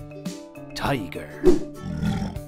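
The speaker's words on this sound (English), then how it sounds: "Tiger." A tiger's roar, short and growling, comes once loudly near the middle of an animal alphabet song, with singing voices and music around it.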